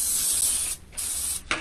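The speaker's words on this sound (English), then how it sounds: "I don't recommend using a spray adhesive" Spray adhesive hisses from an aerosol can in two sustained bursts with a short pause between, followed by a quick final puff, loud and close.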